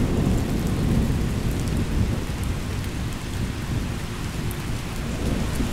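A solid rain shower falls over a small Appalachian mountain stream, a dense, steady hiss of rain with low rushing water beneath, loud and unbroken.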